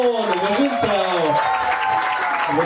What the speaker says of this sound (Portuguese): vou pedir uma grande salva de palmas